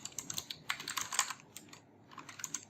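Quick bursts of typing on a computer keyboard, close and fairly quiet, with a short pause before a few more keystrokes; no talking.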